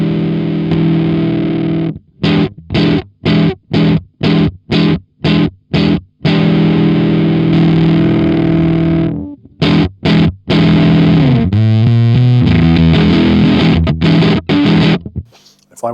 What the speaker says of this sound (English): if I change one of them, we're going to get asymmetric clipping